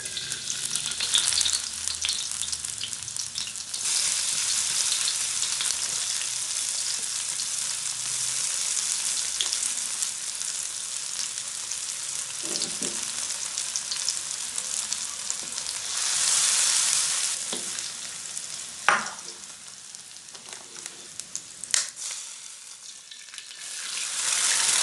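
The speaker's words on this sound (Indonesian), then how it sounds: "Masukin minyaknya, tumis bumbunya." Spice paste sautéing in oil for nasi goreng with petai and lime leaves: a loud, continuous close-up sizzle that carries on for a long stretch, with occasional stirring clatters and scrapes toward the end.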